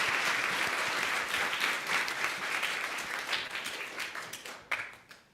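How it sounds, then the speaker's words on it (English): Audience applause at a Kid Governor inauguration ceremony, steady dense clapping from a crowd sustained throughout, tapering slightly near the end with a few louder individual claps. "Give them a round of applause"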